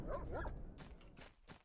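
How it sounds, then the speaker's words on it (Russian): Dogs in the video game STALKER bark and yip in several quick bursts, a dense snarling cluster at first followed by three sharper separate barks, fairly close. "Тут где-то еще должны быть псины."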